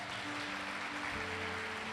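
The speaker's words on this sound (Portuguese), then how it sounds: "Dê uma salva de palmas se você crê." A church congregation during a praise and worship service breaks into dense, continuous applause, a broad wash of many hands clapping together for a couple of seconds with no voices standing out.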